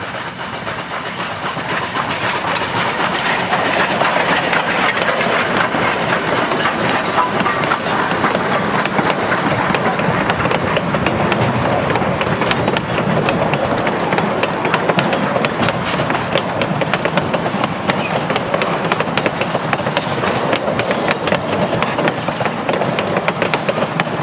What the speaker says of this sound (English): the sound of the 8 a.m. northbound chugging toward Silverton